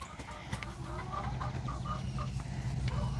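Chickens cluck inside a chicken coop during a deep cleaning, several short calls and murmurs over a low background hum, fairly quiet and with no talking.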